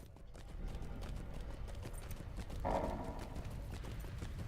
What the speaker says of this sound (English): And while we're just riding a goat,